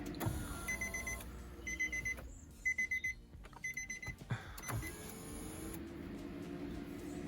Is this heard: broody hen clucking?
no